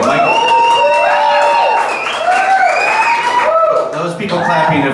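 Comedy club audience clapping and laughing during a stand-up set, with a rising tone of voices and whoops over the clapping, fairly loud and close.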